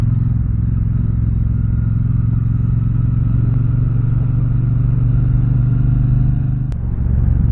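Steady, loud engine drone of a 2024 Triumph Bonneville Speedmaster motorcycle while riding, a low lugging rumble held at constant revs with wind rush and a brief clack near the end.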